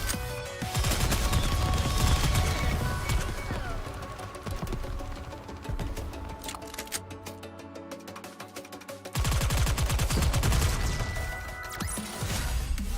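Dense bursts of rapid gunfire and crashing impacts fill a NIKKE video game battle, loud and nearly continuous, with a brief lull before another heavy volley.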